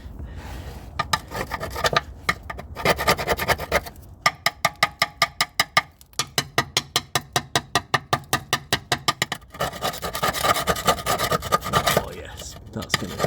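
Rusty crust scraped and poked on the underside of a Honda Civic FN2 Type R, with rapid repeated rasping strokes in a rhythmic run, loud and close, and speech in places.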